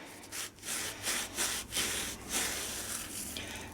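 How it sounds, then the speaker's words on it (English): A Scotch-Brite pad rubs the commutator of a Bosch starter motor, as used on BMW M60 and Jaguar X300, while the shaft is spun by hand. Soft, close scratchy strokes repeat in an uneven rhythm and stand alone at low volume. "Put the Scotch-Brite over the commutator and just spin the shaft in my hands."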